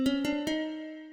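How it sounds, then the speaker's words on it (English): Nylon-string guitar, clean and close: three quick plucked notes over a ringing chord that decays, with a soft final pluck at the end, played alone with no talk. "my secret weapon is this nylon guitar that sounds like this."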